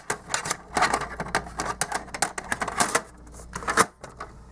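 VHS tape slid into a Sharp VL-L270 camcorder, a run of sharp plastic clicks and clunks from the cassette and loading mechanism, close and fairly loud with no talking.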